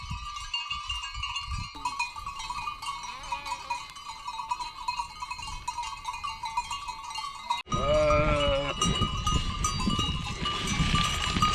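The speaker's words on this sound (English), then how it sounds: "All the sheep are coming down the mountainside." A flock of sheep coming down a mountainside on the Via Alpina near the Zugspitze, bleating repeatedly over constant clanking cowbells, growing louder and closer toward the end.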